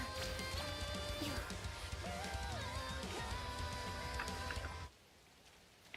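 Steady rain falls in the video game Neverness to Everness, a constant patter under game music and chimes, cutting out near the end.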